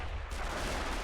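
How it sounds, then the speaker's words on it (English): Distant mortar explosions and flak fire in a WWII beach-landing video game at Pointe du Hoc, heard as a dull, continuous rumbling roar of far-off gunfire lasting about a second. "The only things making sounds right now are the mortars and flaks in the distance"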